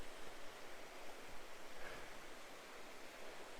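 A river flows along an eroding curve of its bank at a creek park, a soft, steady wash of moving water heard from nearby with no voices.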